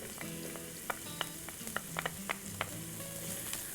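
Diced onion and freshly minced garlic fry in olive oil, giving a steady, soft sizzle broken by a few sharp crackles and pops.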